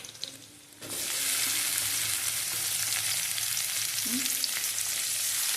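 Chopped tomatoes with turmeric hit hot oil in a pan, kicking off a sudden close sizzle that holds steady, with a soft stir scrape near the end.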